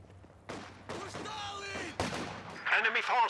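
MG42 machine gun fire in Company of Heroes 2, sharp repeated shots and bursts in a battle mix, heard under someone talking.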